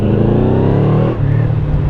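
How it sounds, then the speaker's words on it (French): A nearby Ford Mustang engine revs loudly with a rising then falling pitch, a rich throaty roar that dips briefly before settling back into a steady idle-like rumble. "Je crois que c'est une Mustang si je dis pas de conneries"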